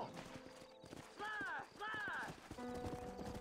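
Horse in a video game clip-clops with hoofbeats and lets out a whinny, heard close and mixed with someone talking over it.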